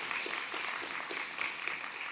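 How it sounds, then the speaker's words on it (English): A conference audience applauds steadily, a dense wash of many hands clapping at moderate distance with no break. "really huge applause first"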